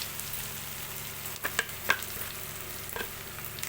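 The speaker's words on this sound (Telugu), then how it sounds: "ఇంకా ఉల్లిగడ్డ అయితే ఫిఫ్టీ పర్సెంట్ అయితే వేగిందండి ఇప్పుడు ఇందులో ఉప్పు పసుపు కారం అల్లం వెల్లుల్లి పేస్ట్ అయితే వేసుకుంటున్నాను" Onions sizzle steadily in a pan as salt, turmeric, chili powder and ginger-garlic paste go in for an egg curry, with a few sharp stirring clicks mid-way over the continuous fry.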